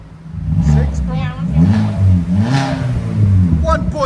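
A 2022 Hyundai Venue with its 1.6-liter engine and a muffler-deleted exhaust revs up close, throaty rises and falls held for several seconds while people talk excitedly over it.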